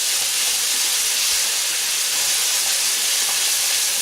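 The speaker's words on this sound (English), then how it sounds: "cassia bark cinnamon and my whole pepper, and you need to stir and fry this now" Cassia bark, cinnamon and whole peppercorns sizzle while being stir-fried for chana masala, a steady broad hiss that stays loud and even for the whole stretch, with no talk over it.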